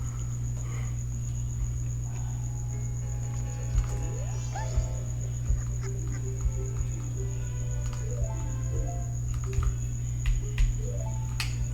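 A steady high cricket trill from The Legend of Zelda: Majora's Mask runs throughout, layered with chirpy game effects, occasional soft thumps and a low constant hum.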